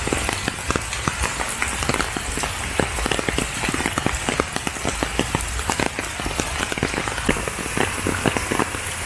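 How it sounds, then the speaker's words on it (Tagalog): Heavy rain pours down steadily in the Philippines, drumming hard on surfaces with a dense, constant patter close by. "Lakas ng ulan no."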